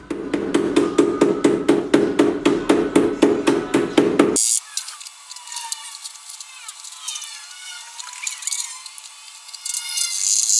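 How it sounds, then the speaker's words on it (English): A hammer strikes steel over and over for a home-built chicken cage, with about twenty loud, evenly spaced metallic blows that stop abruptly, leaving quieter, muffled handling noise. "then smash it with the hammer"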